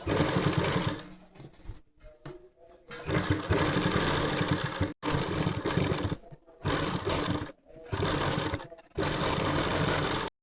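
A sewing machine runs in bursts while stitching along the neckline of a kameez, several loud sustained runs broken by short pauses, close and alone.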